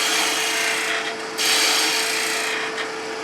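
A woodturning tool cuts a bead into spinning wood on a lathe, a steady close rasping scrape that dips briefly in the middle before resuming, with no talk.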